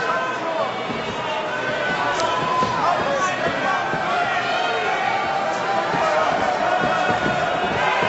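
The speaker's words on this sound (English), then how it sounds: "Crowd getting a little restless." A large, restless indoor crowd at an MMA fight murmurs and calls out continuously, a dense din with occasional shouts and thuds, commentators talking over it.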